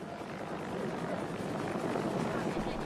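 CIA helicopters evacuating people from city rooftops during the last days of the Vietnam War make a steady, fairly quiet rotor drone that holds throughout.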